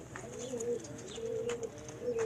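French breed pigeons coo softly in a steady, low, rolling rhythm, several murmuring calls repeating over a constant hum of background noise.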